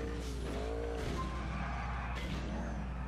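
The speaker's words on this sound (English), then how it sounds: "But here's my drift mod. I have a Sultan with a drift." A Sultan car drifting in GTA IV, its tires skidding and squealing in sweeping, wavering tones over a constant engine drone for about three seconds.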